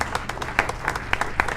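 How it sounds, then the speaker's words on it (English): Studio audience applause on a live lunchtime show: scattered, uneven clapping of moderate loudness with sharp individual claps over a steady patter, lasting under two seconds. "Clap if you think that's wonderfully refreshing."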